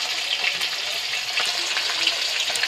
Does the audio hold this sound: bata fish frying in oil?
yes